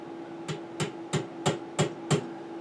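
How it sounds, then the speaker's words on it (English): A soft hammer taps a paneling nail through wood six times in an even rhythm, each blow a sharp, close knock, with a steady faint hum underneath. "paneling nail here and my soft hammer, and I'm just going to punch that nail through the wood"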